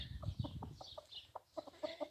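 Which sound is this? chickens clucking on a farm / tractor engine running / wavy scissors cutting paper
chickens clucking on a farm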